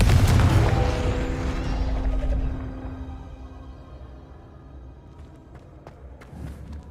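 A fiery Confringo spell blast in the video game Hogwarts Legacy goes off with a loud, deep boom right at the start, then rolls into a low rumble that fades over several seconds.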